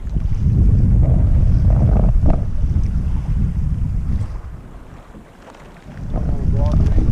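An Irwin 25 sailboat runs through wind on Lake Winnipeg, with steady wind buffeting the microphone and water rushing along the hull. The noise eases for a moment in the middle and then builds again, with brief voices heard in between.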